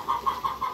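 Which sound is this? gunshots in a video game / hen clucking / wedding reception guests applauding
hen clucking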